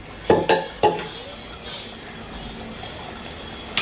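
Metal scrapes and clanks as a spoon stirs mutton in a pressure cooker pot, three sharp knocks followed by a steady low sizzle of frying.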